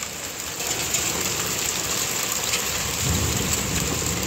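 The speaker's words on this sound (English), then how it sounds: "Here comes more hail." A hailstorm pours down outdoors as a dense, steady hiss of ice hitting surfaces, with a low rumble swelling underneath and no voices.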